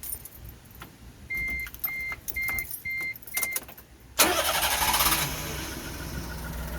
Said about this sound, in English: I'm gonna put it in neutral, and we're gonna start it up again.